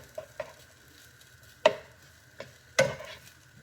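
Pork belly fried rice being mixed in a pan: a few sharp, separate scrapes and taps of a utensil against the pan over a faint sizzle, close by, with quiet gaps in between.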